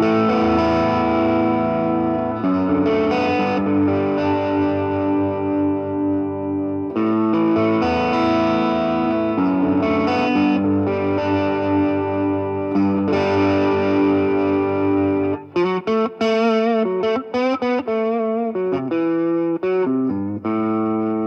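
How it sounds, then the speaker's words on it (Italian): Sterling by Music Man LUKE 6 LK100 electric guitar played through the neck pickup with a soft, low-gain crunch. Sustained chords and melodic lines ring with light distortion, then give way to quick choppy picked notes near the end, with no talk. "pick up al manico con un crunch, un gain a basso guadagno, ok, una cosa molto soft"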